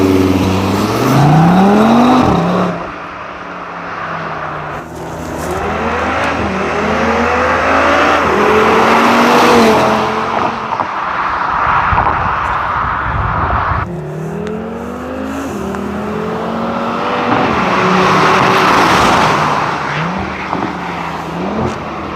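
An Audi RS3 driving fast, engine revving hard through repeated rising gear pulls with upshifts, loud and close, the roar surging and dipping across the run, no talking.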